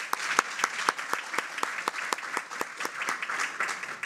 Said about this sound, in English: So a round of applause to all the efforts to bring us all together,